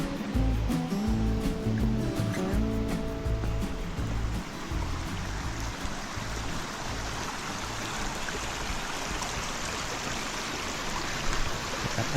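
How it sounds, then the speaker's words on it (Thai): Steady rushing and burbling of a natural forest stream, continuous and fairly close, with some faint knocking at the start. "เป็นลำธารธรรมชาตินะครับ"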